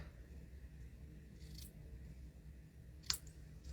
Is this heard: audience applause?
no